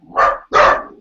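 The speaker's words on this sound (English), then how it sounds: "Puppies!" Puppies let out two sharp, close barks in quick succession, loud and clear against an otherwise quiet room.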